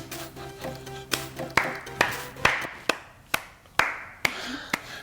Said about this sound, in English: I'm just clapping because I'd like to eat it.